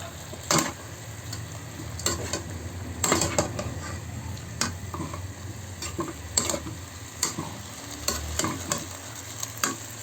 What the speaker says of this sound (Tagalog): Ihalo muna natin siya.